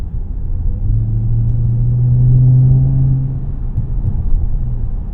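A 2023 Dodge Charger SRT Hellcat Jailbreak gives a deep, steady engine rumble heard close from inside the cabin, swelling slightly mid-way with no voices.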